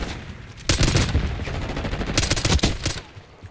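Submachine gun fire in Call of Duty: Black Ops 6 with a slow fire rate, two loud sustained bursts of rapid shots separated by a short pause, with no talk over them.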